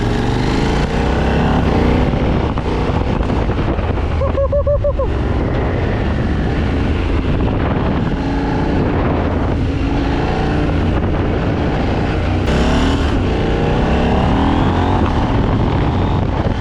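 A KTM 890 Duke motorcycle roars steadily under hard riding, its engine note shifting through quickshifter gear changes, with wind rush throughout and a brief rising whine partway.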